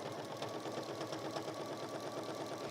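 A domestic sewing machine runs steadily, stitching the carry handle of a fabric mug carrier with a continuous fast mechanical whirr and rapid needle clatter, quiet and close, with no voices.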